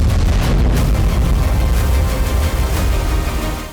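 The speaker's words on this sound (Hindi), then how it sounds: "क्रीमिया के सेवास्तोपोल में कई धमाके हुए हैं" Explosions from drone attacks in Sevastopol, Crimea: a loud, continuous roar of deep booming rumble that fills the whole stretch with heavy broadband noise and eases slightly at the end.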